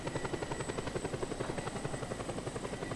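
A helicopter lifts a car into the sky on a rope, its rotor a fast, even throbbing chop with a steady high whine on top, heard alone and fairly distant.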